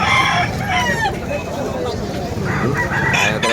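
A rooster crows loudly and close, its call rising and falling, with clucking chickens and a voice talking in the background.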